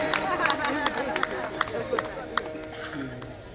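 An audience at a Bhagwat Katha religious discourse claps steadily in a lively patter, moderately close, with a murmur of chatter mixed in.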